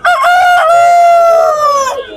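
Large hill rooster at the Mirpur 11 bird market in Dhaka gives one loud, close crow, rising sharply and then holding a long drawn-out call before it breaks off.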